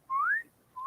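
A person whistles a quick rising note that slides upward and stops, then starts a second note at the end, clear, close and alone.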